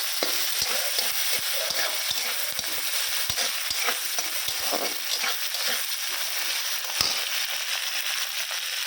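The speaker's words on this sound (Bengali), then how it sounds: "রসুনটা একটু বেশি ভাজা হয়ে গেছে" Garlic fries in hot oil in a pan, a dense crackling sizzle with many sharp pops and spatula scrapes, close and steady throughout, no voices.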